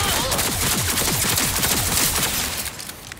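Loud, rapid gunfire in Cyberpunk 2077, a dense burst of repeated shots lasting a few seconds before easing off slightly.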